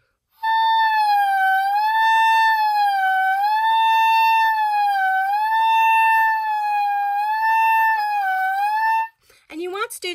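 An oboe holds a sustained octave A for about eight seconds, its reedy tone wavering slowly up and down in pitch as the reed is rolled on the lip, close and clear, ending abruptly with brief handling noise.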